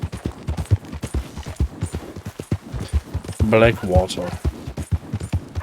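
Galloping horse hooves from Red Dead Redemption 2 thud in a quick, even clip-clop under continuous talk from a man, with a brief in-game voice partway through.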